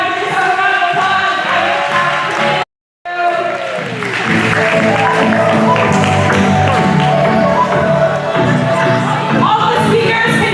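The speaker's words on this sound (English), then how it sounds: "Give yourself a round of applause." An audience at an event applauds loudly and continuously, with cheers and whoops mixed into the clapping, broken only by a brief silent gap.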